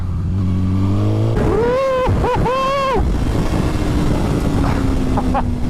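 A Suzuki GSX-R1000 K8 sport bike revs hard, its engine note rising and dropping sharply through quick bursts as it lifts into a wheelie, loud over steady wind rush, then settling back to a lower drone.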